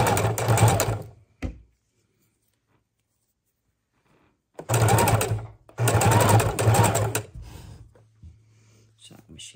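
A sewing machine runs in several loud bursts, hard enough to shake the table beneath it, with a long silent pause between the first burst and the next two, then softer handling noise.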